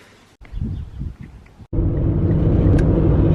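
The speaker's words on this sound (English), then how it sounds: "We are in the car on the way to Mum's house." A car drives along, heard from inside the cabin, first as quiet muffled rumbling with a few bumps, then a sudden jump to a louder steady road and engine roar.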